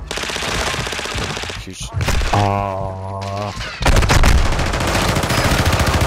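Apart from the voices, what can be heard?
gunfire from a rooftop shooter in a video game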